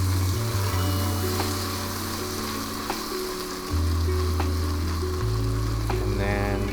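Diced butternut squash frying in a pan for risotto, a steady close sizzle with occasional stirring scrapes and a low background hum, no voices.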